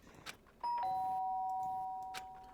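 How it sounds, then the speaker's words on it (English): A doorbell in the Danganronpa video game rings once with a clear two-tone chime that rings out and fades, preceded by faint soft noises. "The sharp sound of the doorbell pierced my sleepy haze and pulled me back to the real world."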